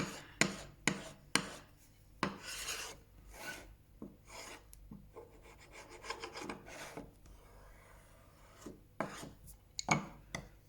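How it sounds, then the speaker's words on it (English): A blade scrapes and rasps against a waterstone in repeated strokes, close and fairly quiet, with irregular rhythm, sharp knocks and brief pauses between passes. "I needed to do some sharpening first"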